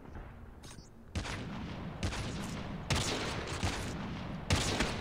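Gunfire in the shooter video game Call of Duty Mobile with a DL Q33 sniper rifle, heavy bursts of shots starting after a quiet second, loud and dense across the rest, no talk over it.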